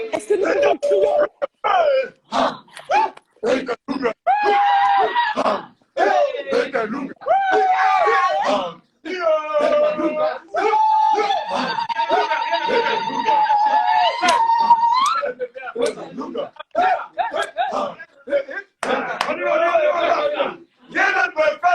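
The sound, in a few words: crowd shouting and screaming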